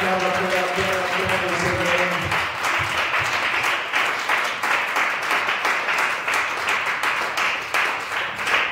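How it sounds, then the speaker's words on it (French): Congregation at a church service applauding and cheering for the Lord, dense sustained clapping with loud crowd voices; a short sung or held tone at the start fades as the clapping continues steadily. "Est-ce que tu peux acclamer le Seigneur ce soir? Acclame le Seigneur."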